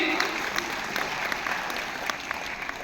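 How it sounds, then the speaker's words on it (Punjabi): A crowd claps steadily throughout, a dense patter of hands filling the space with a few sharper claps standing out. "ਸਰਦਾਰ ਕੁਲਤਾਰ ਸਿੰਘ ਸੰਧਵਾ ਮੁੱਖ ਮਹਿਮਾਨ ਪਹੁੰਚੇ ਇਹਨਾਂ ਲਈ ਜ਼ੋਰਦਾਰ ਤਾਲੀ"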